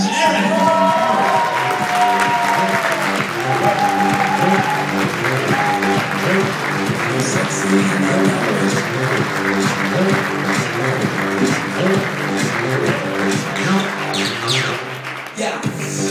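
Sustained applause from an audience at a London event, steady and loud for the full length, with music playing underneath and cheering mixed in.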